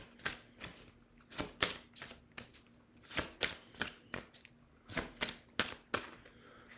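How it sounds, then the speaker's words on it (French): Oracle cards are shuffled and drawn, giving a quick irregular series of sharp snapping and slapping clicks, close and fairly clear against quiet room tone. "Pour finir, je vais prendre une carte de Tommy Carmine Salerno"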